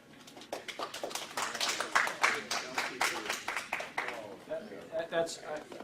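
Scattered clapping from an audience at a public immigration hearing, a few distinct hand claps mixed with a voice talking over them.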